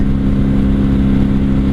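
Idling 750cc V4 engine of a wrecked 1997 Honda Magna VF750C fitted with Vance & Hines pipes, a steady close rumble with a low droning hum holding even for the whole stretch.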